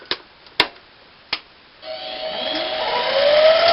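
A Harbor Freight 7x10 mini metal lathe spinning up to about 600 RPM after a few sharp clicks, settling into a steady whine with a rising pitched tone.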